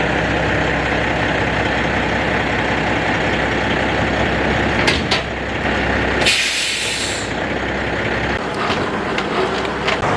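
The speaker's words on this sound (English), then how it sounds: "May as well hook this truck to its trailer." A heavy farm truck engine idles with a steady low rumble, broken by a sharp hiss of air brakes partway through.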